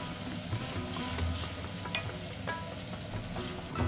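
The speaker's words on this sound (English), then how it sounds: "Once the oil is heated, we add in the onions, then we add in the tomatoes" Chopped onions and tomatoes fry in hot oil, giving a constant close sizzle with a few soft stirring scrapes and clicks from the pan.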